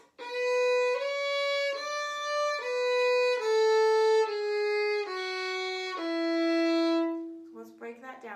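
Solo fiddle playing descending scale passages from the Oriole Hornpipe, a string of sustained bowed notes stepping steadily downward, close and clear, ending with a brief flurry of shorter notes.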